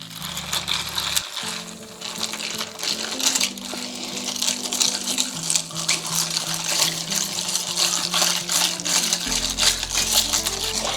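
Ice and liquid clink and swirl as a lime soda mojito mocktail is stirred in a glass, a continuous run of rattling, splashing sounds close by with a low hum in the background.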